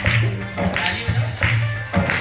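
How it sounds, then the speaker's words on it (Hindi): Rhythmic hand clapping from a group at a devotional kirtan gathering, steady repeated claps under a singing or speaking voice, fairly loud and close. "ताली बजाओ।"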